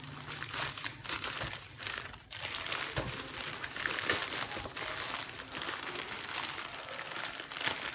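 Crinkling and crushing of packing material as a shipping package sent from China, carefully wrapped and holding a security camera, is cut open, a steady close rustle with brief pauses, no talk.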